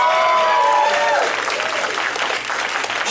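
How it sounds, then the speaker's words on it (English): Comedy club audience applauds, loud and close, with brief cheering and a voice over the start before the clapping settles into a steady, dense wash. "Round of applause if you have kids."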